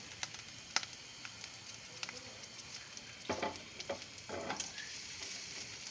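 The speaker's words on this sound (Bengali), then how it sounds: "তেল গরম হয়ে গেছে, এখন পেঁয়াজ কুচিটা দিয়ে দিলাম।" Chopped onion drops into hot oil and fries with a soft, steady sizzle. A few light stirring scrapes and crackles rise over the hiss, fairly quiet and close.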